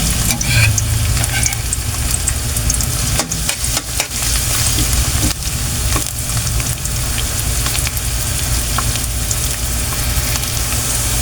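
Garlic and onion sautéing in a pan for chicken liver adobo make a loud, continuous close-up sizzle, broken by the scrapes and taps of stirring.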